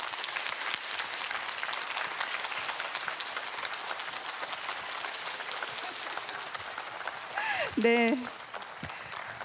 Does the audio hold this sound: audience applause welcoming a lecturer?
yes